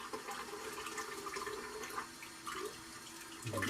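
Cold tap water runs and splashes at a sink as it is scooped onto a face during a cold shave, a soft, continuous trickle with faint splashes and no talking.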